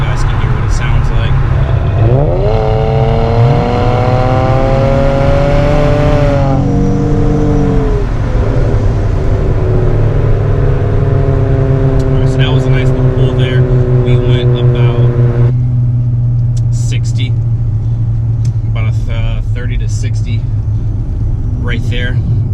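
Car exhaust heard from the rear during a short acceleration pull, a loud rising engine drone that climbs in pitch, drops at a shift, then holds and fades, continuous and close.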